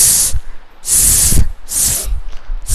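A voice imitates a snake's hiss for the letter S: four long, loud hissing bursts separated by short breaths, close to the microphone, with no other talk.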